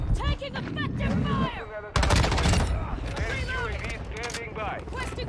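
Video game gunfire in Call of Duty Modern Warfare 2 while an M13C assault rifle is being unlocked. Loud bursts of rapid automatic shots come close up and overlap with talk and game voice lines throughout.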